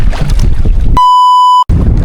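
Gusty wind buffets the microphone on a boat at night, loud and blustery, with a sudden steady electronic tone cutting in partway through before the wind rumble returns.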